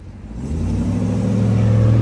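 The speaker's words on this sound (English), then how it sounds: "these cars are coming. They are coming." Cars approach on a road, their engine hum swelling steadily louder and nearer over a couple of seconds with a low, rising drone and no voices.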